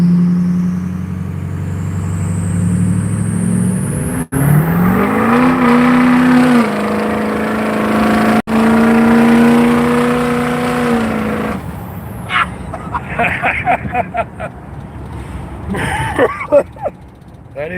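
A turbocharged truck engine revving hard to build boost, its tone climbing and holding in long, loud pulls close by, then breaking into rougher, uneven bursts as the turbo spools.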